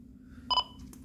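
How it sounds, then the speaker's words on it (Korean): An Icom IC-M424G marine VHF radio gives a short pair of clear electronic alarm beeps after a DSC individual call is sent, close and alone against a quiet low hum. "개별 호출 발사를 하게 되면 아이콤 M424G에서 깜빡깜빡임과 함께 알람이 울리고 있습니다."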